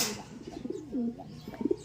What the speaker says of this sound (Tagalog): Ito yung tinatawag nating kapos na ibon ayan.